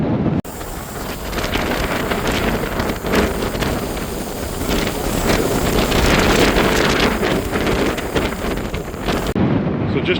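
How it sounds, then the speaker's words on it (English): Strong storm wind at a wild camp buffets the microphone in a continuous roaring rush, gusting to about 20 over a constant 16 to 17, swelling and easing throughout. "we're currently hitting gusts of about 20, constant sort of 16 to 17"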